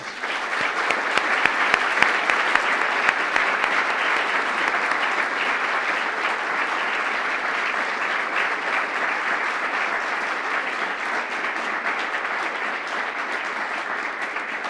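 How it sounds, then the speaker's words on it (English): Sustained applause from an audience at a law school honors event, dense and even throughout, with no one speaking over it. "I think they deserve a round of applause."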